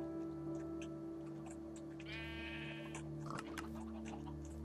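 Sheep bleating in Minecraft, a couple of nasal bleats over a quiet humming background, with faint ticking sounds scattered around them.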